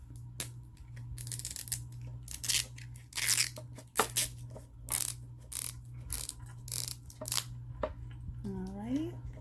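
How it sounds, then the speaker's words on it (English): Wrapper layers are peeled and torn off a LOL Surprise ball with repeated crinkly tearing and rustling bursts against a steady low hum, while a voice talks intermittently. "I'm gonna get started by peeling this first layer off"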